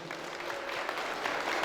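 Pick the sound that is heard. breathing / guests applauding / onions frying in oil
guests applauding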